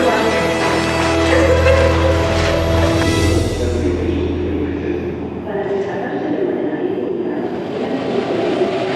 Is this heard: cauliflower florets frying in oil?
no